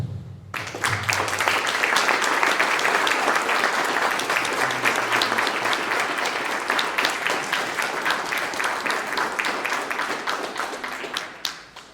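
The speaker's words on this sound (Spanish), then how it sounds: "un fuerte aplauso para nuestras invitadas homenajeadas" Loud, dense applause from an audience honoring guests at a tribute ceremony at the Unidad Académica de Economía in Zacatecas, sustained for about eleven seconds before fading out.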